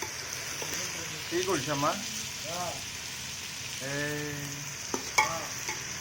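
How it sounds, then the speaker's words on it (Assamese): Onions frying in a pan for pulao during home cooking for a Christmas picnic, a steady close sizzle that continues under brief conversational voices. "পোলাওৰ কাৰণে এইখিনি পিঁয়াজখিনি ভাজি আছোঁ"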